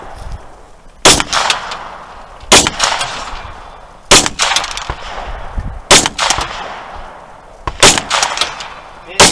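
Loud gunshots ring out at an outdoor three-gun shooting competition, about six sharp reports spaced a second or so apart, each with a ringing tail, over faint background chatter.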